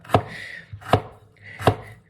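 A knife chops through food on a board in three loud, evenly spaced strikes, each a sharp thunk, close by and with no voices over them.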